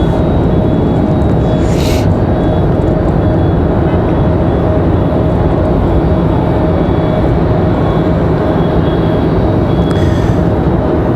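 An airliner approaching runway 5 at Raleigh-Durham airport, heard as a steady, loud broadband roar that holds for the whole stretch with no voices.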